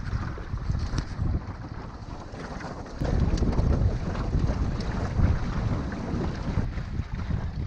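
Steady, heavy wind buffeting the microphone while running downwind on a Windmill sailing dinghy near Saint-Briac, with a low rumbling roar that strengthens partway through and stays loud and continuous.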